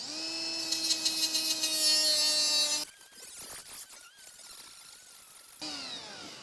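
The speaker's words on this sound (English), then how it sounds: "little handheld grinder, and we're just going to grind the end off that link" Handheld grinder whining steadily at high pitch as it grinds the end off a rivet link on a Kawasaki Z1000SX motorbike chain, cutting out abruptly, then spinning down and starting up again near the end.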